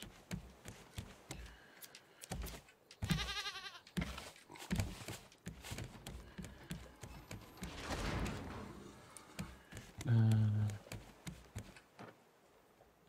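Goat bleating in the survival game Raft, a few short wavering bleats rising through the clip, with a louder, clearer call near the end over clattering game sounds.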